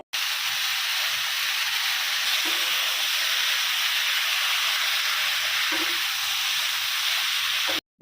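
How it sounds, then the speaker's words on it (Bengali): Jaggery and mangoes boil in a pot while cooking mango pickle, giving a steady, even bubbling sizzle that holds without a break for the whole stretch, with a few faint low knocks beneath it. "গুড় দেওয়ার পর এবার বেশ অনেকক্ষণ ধরে ফুটিয়ে নিতে হবে।"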